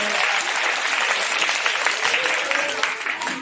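Audience at a primary-school costume show in Antroli clapping steadily, a dense, loud wash of applause that holds for the whole stretch without a pause.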